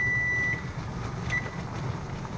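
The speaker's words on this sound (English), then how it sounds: "So that timer tells me that my jars are now sterilized" A pressure-canning timer signals that jars are sterilized: a single steady electronic beep sounds at the start, then a brief second beep, over a low background hum.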